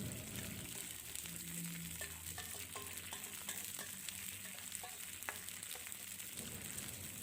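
Tofu in sweet and sour sauce sizzling steadily in a pan, with a continuous frying hiss and faint scrapes of stirring spaced through it.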